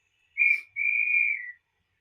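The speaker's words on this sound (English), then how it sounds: "Guard's whistle." Model railway guard's whistle sound effect: a short high chirp followed by a sustained shrill whistle lasting about a second, clean and alone against silence.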